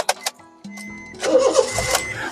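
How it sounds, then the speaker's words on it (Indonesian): A 2015 Honda Brio 1.2 E automatic starts up: a few sharp clicks and a brief whir come first, then the starter cranks and the engine catches with a rough, close rumble. "Sekarang kita coba start mobil ya."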